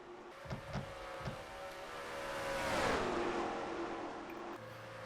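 Race trucks, including a 1995 Dodge Ram pickup, roar around the Las Vegas oval in a racing video game, engines swelling to a loud drone as they sweep past, with a few sharp clicks at the start.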